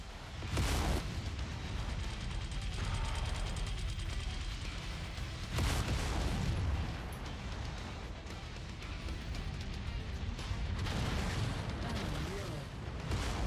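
Repeated volleys of LRM-15 missile fire from several launchers on a mech in a video game, loud rumbling booms in bursts around a continuous roar, with a voice talking over parts of it.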